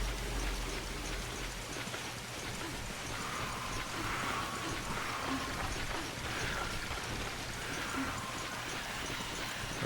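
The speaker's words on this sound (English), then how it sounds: "It's raining" Steady in-game rain falls throughout a Monster Hunter Freedom Unite hunt, a constant broadband hiss with faint soft textures beneath, continuous and even with no breaks.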